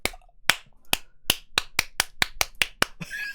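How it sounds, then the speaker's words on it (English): One person claps about a dozen times in an even rhythm. The claps are crisp and close, with no talking over them. "I thought we weren't supposed to clap when we did good things."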